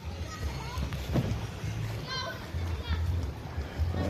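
Young people splash and swim at the water's edge on Samal Island, lively splashing mixed with children's shouts and chatter over steady waves, with an adult voice talking nearby.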